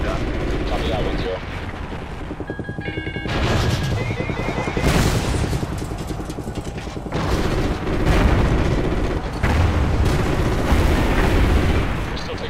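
Anti-aircraft fire and explosions in Call of Duty Ghosts: dull, heavy booms and rumbling blasts roll over one another continuously, with radio chatter and brief electronic beeps running through them.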